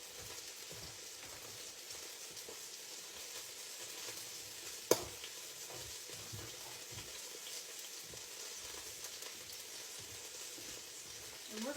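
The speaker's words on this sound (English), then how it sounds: "And we're going to stir this meat up" Ground meat frying in a pan with a steady, quiet crackling sizzle as a wooden spatula stirs it, one sharp clack partway through, close and continuous.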